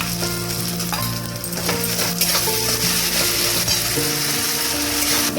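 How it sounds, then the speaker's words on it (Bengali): Garlic paste fries with coconut in a pan, giving a loud, continuous sizzle with scraping stirs and a few metallic clinks over a low background hum. "এবার আমি 1 টেবিল স্পুন রসুন বাটা দিয়ে দিলাম, এর মধ্যে অ্যাড করে দিলাম"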